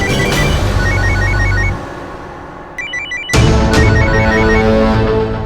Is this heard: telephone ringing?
yes